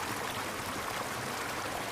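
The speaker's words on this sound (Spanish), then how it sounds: "estamos en el mismísimo río Uruguay" The Uruguay River flows with a steady, dense broadband rush, a continuous even wash of water with no voices.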